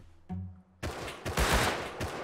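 Gunfire in the Rust video game during a base raid: a quiet lull, then a sudden dense burst of rapid shots and impacts, loud and close, continuing in a clattering volley without voices.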